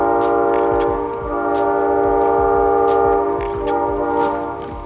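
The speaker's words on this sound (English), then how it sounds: "See the train" A train rolls past in Call of Duty: Warzone, loud and close, its horn held in long steady tones over the rumble and clatter of the cars, with no talking.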